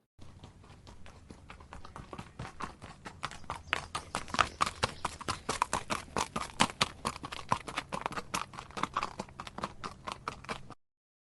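Horse hooves clip-clop at a brisk, quickening gait, sharp regular strikes that grow louder and more frequent, heard alone without voices.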